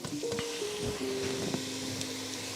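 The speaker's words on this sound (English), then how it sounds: "we're gonna let this bacon grease and these onions do their thing" Onions frying in bacon grease in a pan over medium heat give a soft, steady sizzle, with a few faint squeaky utensil scrapes mixed in.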